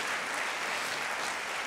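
Audience applause at the re:publica and Media Convention Berlin 2018 opening, greeting the keynote speaker: a steady, dense wash of many hands clapping that holds at an even level for the whole stretch with no one talking.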